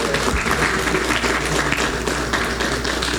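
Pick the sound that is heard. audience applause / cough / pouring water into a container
audience applause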